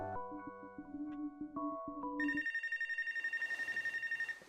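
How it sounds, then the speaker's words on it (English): A telephone rings in the Life Is Strange: True Colors video game, a bright repeating electronic trill that follows a short plinking musical phrase, moderately loud with no talk over it. "Phone ringing."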